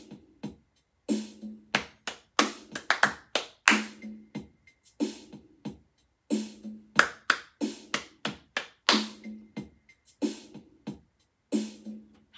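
Body percussion built on hand clapping: crisp, close claps and taps arrive in short rhythmic patterns, with brief pauses between the phrases.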